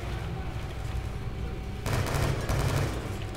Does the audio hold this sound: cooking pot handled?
no